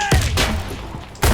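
Two sharp gunshot bursts from a video game, one near the start and one at the end, with a muffled rumble between.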